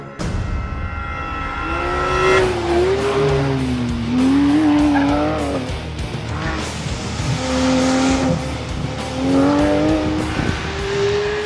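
A Porsche 911 GT3 engine revs hard toward 9,000 RPM through rising and falling pitches, climbing high as it accelerates along a track, loud and close.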